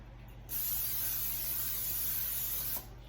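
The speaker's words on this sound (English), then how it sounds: "let me get the spray." A single sustained hiss of cooking spray into a baking dish lasts a couple of seconds, close and steady, then cuts off abruptly.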